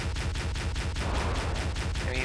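Rapid gunfire in the game Halo CE, a fast loud rattle of shots running through the stretch and then thinning out.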